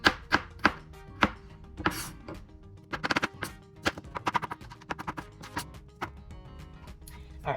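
Purple garlic chopped with a knife on a cutting board, a run of crisp, irregular knocks, some quick and clustered and others spaced apart, close and clear with no one talking.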